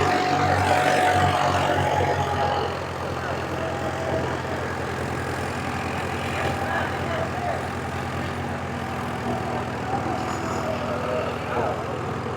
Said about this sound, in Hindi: ये देखो और बिल्कुल पट सूखे खेत में चलाए जा रहे हैं ट्रैक्टर